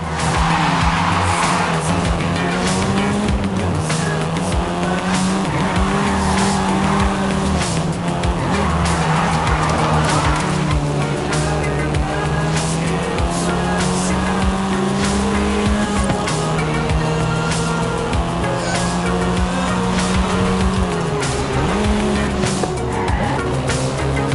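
A car engine drones steadily with shifting revs, tire squeal and skidding throughout, driving in Forza Horizon 5 on PS5, loud and continuous with no talk.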